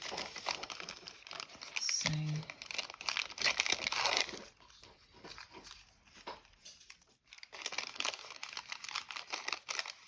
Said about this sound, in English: baking paper. I'm having trouble tearing it.